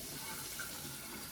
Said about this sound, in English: I have to get hot water so I can mix my dyes